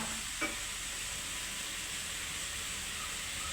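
Mustard seeds fry in hot oil in a pan as an onion and coconut mix goes in, making a steady, quiet sizzling hiss with a single faint clink early on.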